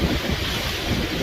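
Choppy, stormy ocean surf rolls onto a beach in a dense, continuous roar, with buffeting wind noise on the microphone and no voices.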